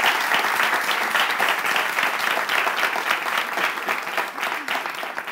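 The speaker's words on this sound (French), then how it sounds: "vous pouvez quand même applaudir pour ça" Studio audience at a live French-language television show breaks into sustained applause, a dense wash of clapping that holds steady at full strength for several seconds with no voice over it.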